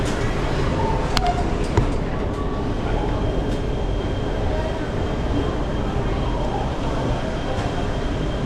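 A subway train rumbling loudly and steadily nearby, a dense continuous roar with faint rail clicks and squeals throughout, no talking.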